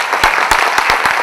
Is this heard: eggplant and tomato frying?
no